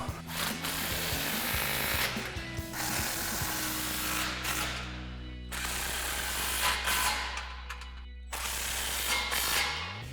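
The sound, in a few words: tightening exhaust muffler clamps on a Silverado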